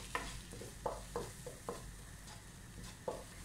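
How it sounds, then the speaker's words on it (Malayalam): Maida flour being stirred and fried in a pan for white sauce pasta: a quiet steady sizzle with rhythmic scraping strokes of a spoon roughly every half second, no talk. "2 ടീസ്പൂൺ മൈദ ചേർത്ത് കൊടുക്കാം ഇത് വൈറ്റ് പാസ്ത വൈറ്റ് സോസ് ഉണ്ടാക്കാൻ വേണ്ടിയിട്ടാണ് നന്നായിട്ട് ഒന്ന് ഇളക്കി ഇതിനെ ഒന്ന് ഫ്രൈ ചെയ്തെടുക്കാം"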